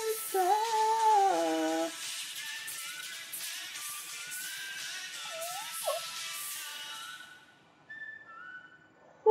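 Clear melodic whistling rises and falls over a soft musical backing in the Stray Kids song Grow Up, then the music drops away to near silence.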